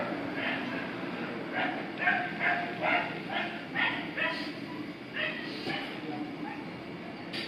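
Dogs bark repeatedly in the loud city of Hamburg, Germany, a series of yapping bursts rising over a constant wash of traffic and urban background noise.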